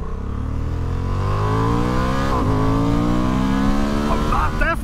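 A 2023 Honda CB750 Hornet motorcycle engine pulls hard through the revs, its loud close drone climbing steadily in pitch, dipping briefly at a gear change, then rising again.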